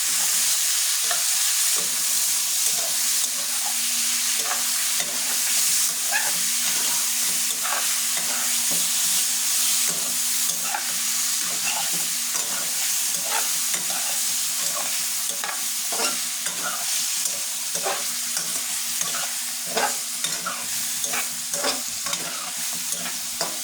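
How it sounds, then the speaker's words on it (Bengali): Chicken pieces frying and being stirred in a pan, a steady sizzle broken by repeated spatula scrapes and clinks against the pan at an irregular rhythm. "আমি মুরগির মাংসটা নেড়ে দিই"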